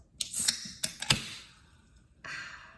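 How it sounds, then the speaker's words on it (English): A can of LaCroix sparkling water cracked open up close, with sharp clicks and a pop followed by a brief fizzing hiss, then a second burst of fizz after a short pause. "I'm just cracking open a nice sparkling water."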